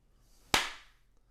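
A single sharp hand clap, loud and close, with a quick bright snap that decays over about a quarter second into a quiet room.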